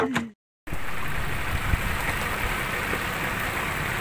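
Steady broadband hiss of rain falling while fishing off Biak Island, continuous and fairly loud after a brief silence, with a few soft thumps mixed in.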